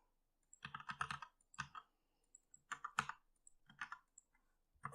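Card details typed on a computer keyboard in quick bursts of close, crisp key clicks separated by short pauses, with no talking.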